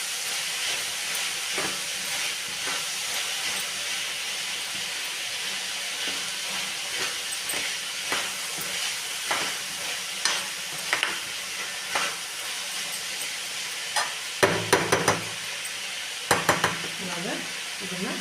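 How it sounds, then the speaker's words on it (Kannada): Green chili is stirred into a hesaru kalu bean palya in a hot pan, with a steady soft sizzle and hiss broken by scattered scraping clicks of the spoon that grow sharper toward the end. "ಹಸಿ ಖಾರ ಹಾಕ್ಕೊಂಡು ಅದನ್ನು ಚೆನ್ನಾಗಿ ಹೆಸರು ಕಾಯಿಗೆ ಮಿಕ್ಸ್ ಆಗೋಂಗೆ ಕಲಿಸ್ಕೋಬೇಕು"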